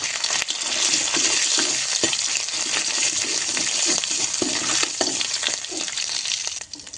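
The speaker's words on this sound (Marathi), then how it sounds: "आलं लसूण छान परतून घेऊया." Ginger garlic paste and cumin seeds fry in hot oil, likely over a wood-fired stove, giving a steady, close, loud sizzle with small crackles and stirring scrapes throughout, fading slightly at the end.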